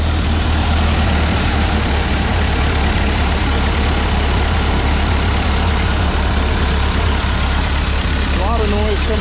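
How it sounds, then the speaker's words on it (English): A Ford 9N tractor engine fitted with a new muffler idles steadily with a deep, low, continuous rumble close to the microphone, with a brief voice near the end. "We'll fire it up here in a second and see how it sounds with the new muffler"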